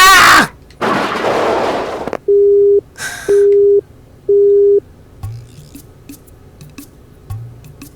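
After a phone is hung up, three evenly spaced busy-tone beeps sound loud and clear, following a burst of clattering noise, with faint soft thumps afterward.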